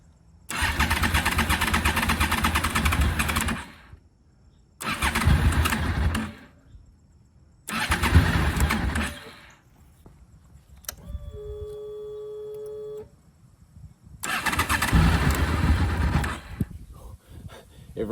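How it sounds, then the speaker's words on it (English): A Honda VFR800 motorcycle that sat unused for eight years cranks in repeated starter bursts, each a loud grinding whir cut by short silences, with a brief steady electronic tone in between before a final cranking attempt. "I'm going to attempt to start it."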